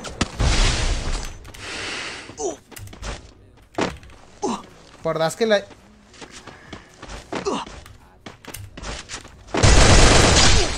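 Sharp M24 rifle shots and thumping impacts in a first-person shooter video game, several separate bursts and thuds, with someone talking between them.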